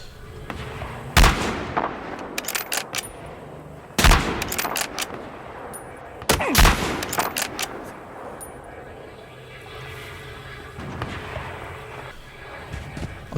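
Sniper gunfire in the multiplayer shooter Battlefield Hardline, with three loud, sharp shots at spaced intervals, each trailing into a rumbling echo, and a quieter bed of distant game noise between them.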